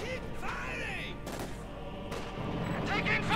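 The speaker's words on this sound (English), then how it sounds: "Mortars going to the grenadiers inside the building, lighting the front" Mortar fire and explosions from a Company of Heroes 2 1v1 match, with thudding blasts and crashes scattered under a commentator's ongoing speech and busy battle noise.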